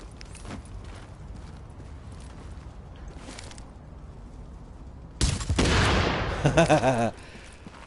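A sudden loud grenade blast in The Division game bursts out after quieter scattered gunshots, followed by a rattle of rapid gunfire, all close and heavy.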